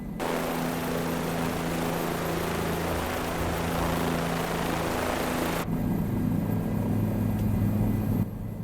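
A helicopter takes off from an airport in Microsoft Flight Simulator. A loud, steady rotor and engine drone runs throughout, then the tone shifts abruptly partway through as the aircraft climbs.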